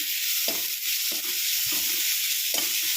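Grated carrot fries in a pan for hotel-style tomato rasam, a bright constant sizzle with four distinct scraping stirs at even intervals. The sound is close, with no talking.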